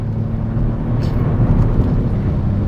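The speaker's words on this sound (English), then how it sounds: "the sound of the engine permeating into the cabin is not loud" Kia Stinger GT engine heard from inside the cabin while driving fast: a steady, subdued low rumble with road and wind noise, continuous and moderately quiet throughout, with no talking.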